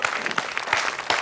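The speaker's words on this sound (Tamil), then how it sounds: "அதுக்கு ஒரு பெரிய கைத்தட்டல் கொடுக்கலாம்." Audience applause on a Tamil TV comedy show, a short burst of dense clapping at a steady level with a few sharper peaks.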